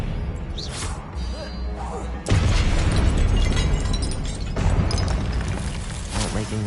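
Confringo blasting spells detonating during Hogwarts Legacy combat on PS5, with loud booming bursts, the biggest landing about midway, over dense battle noise, music and scattered voices.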